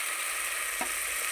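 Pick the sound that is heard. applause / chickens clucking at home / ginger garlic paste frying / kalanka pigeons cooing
ginger garlic paste frying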